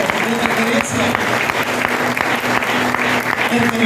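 A church congregation claps together during a sermon, a dense sustained round of applause close and loud, with a voice speaking over the clapping.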